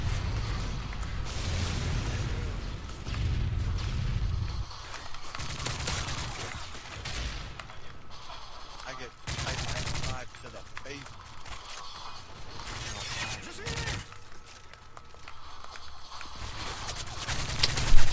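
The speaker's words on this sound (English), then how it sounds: "I shot that guy right in his eye socket." Gunfire in a first-person shooter game comes as rapid bursts and single cracks, intermittent and punchy, mixed with mechanical clatter and heavy low rumbling beneath.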